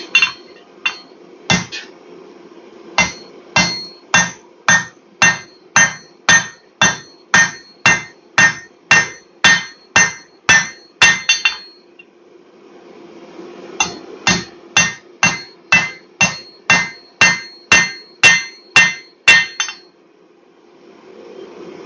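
A hammer strikes a hot steel shears handle on an anvil during forging, with two long runs of steady, ringing metallic blows at an even rhythm, loud and close, separated by a short pause.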